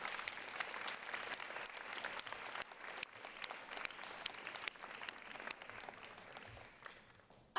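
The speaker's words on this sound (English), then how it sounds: "could you join me in giving a round of applause to all of those in front of us?" Sustained applause from a large audience at a Board of Education awards ceremony, dense steady clapping throughout with no voices over it, tapering slightly at the very end.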